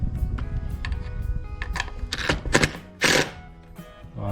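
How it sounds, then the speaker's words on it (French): A screw being driven into a wall to mount shutter hinges, heard as close, buzzing bursts of a powered driver with short pauses between them, followed by a louder spurt near the end. "je mets une vis que je vais visser assez fort mais pas entièrement"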